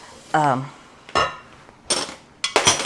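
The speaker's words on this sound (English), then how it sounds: "I'm going to mix the onions in" Onions stirred into pepper relish in a metal pot, three or four distinct clanking scrapes of a utensil against the pot, close and fairly loud, with a short vocal sound at the start.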